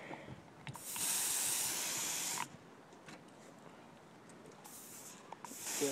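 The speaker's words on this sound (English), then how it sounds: "we got dry ice out of this fire extinguisher" A forceful hiss of a fire extinguisher spraying dry ice bursts for about two seconds, then shorter faint puffs follow, with a final spray starting at the end.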